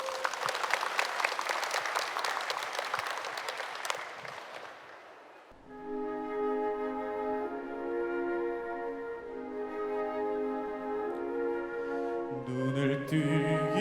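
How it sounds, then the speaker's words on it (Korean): A concert audience at an anniversary radio broadcast claps loudly for about five seconds, then the applause fades out. A flute orchestra then starts playing sustained, harmonious tones. "큰 박수로 맞아주시기 바랍니다."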